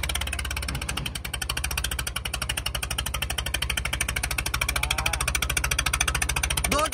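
A Swaraj tractor engine chugs steadily at low speed in third gear while pulling two trolleys, with a rapid, even knocking pulse, close and loud throughout with no talking.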